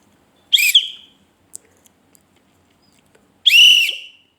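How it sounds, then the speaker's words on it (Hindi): A whistle blown hard twice, each a loud shrill blast with a warbling trill, the second longer, separated by near silence with faint small clicks. "बस सीटी पड़ी है यार"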